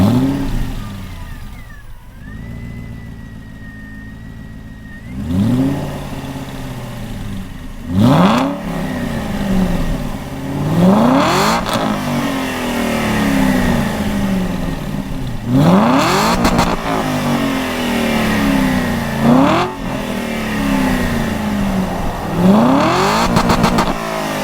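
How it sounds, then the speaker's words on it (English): A 2008 Aston Martin Vantage V8 Roadster with a loud exhaust sits idling, then is revved in several sharp bursts that rise and fall back to a rumbling idle, heard close and without talk. "I'll give you a little exhaust note real quick"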